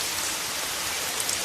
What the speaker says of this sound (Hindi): धीरे धीरे बारिश भी शुरू हो रही थी।